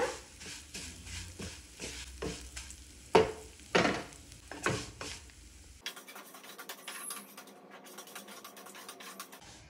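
Vermicelli frying in ghee for a Rayalaseema chana dal payasam, with crackling sizzle and a series of stirring scrapes through the first half, then a thinner, quieter hiss continuing alone.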